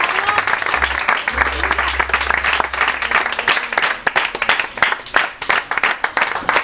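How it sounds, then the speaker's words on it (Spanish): A church congregation claps in applause, a dense, continuous patter of many hands filling the room, with some voices mixed in beneath it. "Denle ese fuerte aplauso al Rey"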